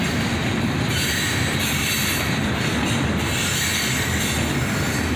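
A southbound CSX freight train rumbles steadily past close by, wheels grinding and rails hissing with a faint metallic squeal throughout, no voices.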